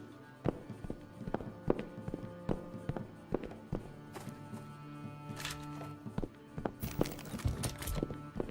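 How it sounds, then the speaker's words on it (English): A video game character explodes during a live game development session, with a series of sharp popping bursts and thuds over a busy background, louder and denser toward the end. "why is he exploding?"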